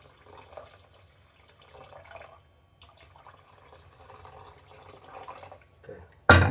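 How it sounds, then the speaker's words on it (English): Two cups of water go into a cooking pot on a stove set to high for turkey and egg noodles, giving faint trickling and dripping for several seconds before a louder splash at the end. "I'm going to add to that is 2 cups of water"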